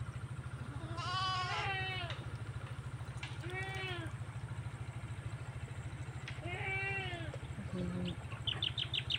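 Goats on a farm let out several drawn-out, wavering bleats spaced a few seconds apart, with a short clipped call near the end, all over a steady low drone.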